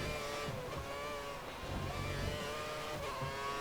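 A Formula 1 car from the F1 2013 racing game at Silverstone, its engine holding a steady high-pitched whine with rising harmonics as it accelerates, loud and continuous with no talk.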